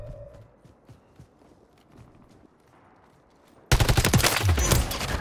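Video game gunfire starts as faint, scattered distant shots over quiet background noise. After a few seconds it turns abruptly into loud, close, rapid bursts.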